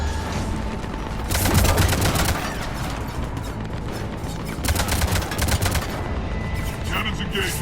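Cannons firing in Mass Effect 3, heavy rapid bursts of loud booming fire in two long volleys over a constant roar of combat noise, close and intense.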